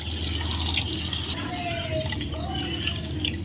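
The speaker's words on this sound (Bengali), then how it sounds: "মাছগুলো সব ধুয়ে নিয়েছি" Fish being rinsed by hand in water at a kitchen sink, a steady wash of running and splashing water with small drips and patters throughout, fairly close.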